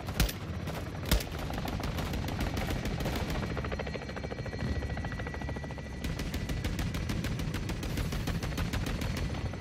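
Call of Duty Modern Warfare II battle, with rapid sustained automatic gunfire rattling continuously over a rumbling backdrop of aircraft and explosions, punctuated by a couple of heavier blasts near the start.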